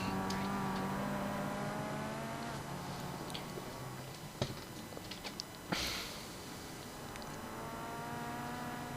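Simulated race cars at Laguna Seca in the iRacing game, a steady engine drone with shifting revs, a couple of sharp clacks and a car passing, moderately loud without speech.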